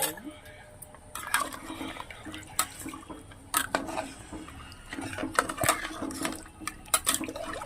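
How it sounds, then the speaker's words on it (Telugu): A bowl of water is poured into mutton paya curry in a pressure cooker: a splashing, rushing pour close by, with scattered clinks of pots and utensils around it. "ఇప్పుడు ఒక గిన్నెడు నీళ్ళు పోసుకోవాలండి"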